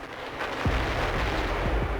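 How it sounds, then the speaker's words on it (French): A linear explosion of fuel, soil and explosives set in a straight line rips through in a rumbling blast. The roar stays loud and dense throughout, with sharp low thuds bursting through it. "En une fraction de seconde, l'explosion linéaire réduit tout en poussière."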